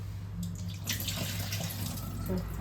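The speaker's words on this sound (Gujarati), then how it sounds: "બે પાણીએ દાળ ધોઈ નાખશું ઓકે ઘસીને ધોઈ નાખવાની દાળ" Moong dal is rubbed and rinsed in water, giving a close, continuous splashing and sloshing with a low background hum throughout.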